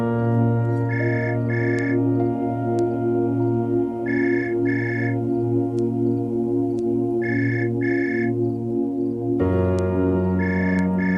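Telephone ringing indoors in a home, repeated double-burst electronic rings in an even rhythm, each pair spaced a few seconds apart, sounding over a steady low background hum.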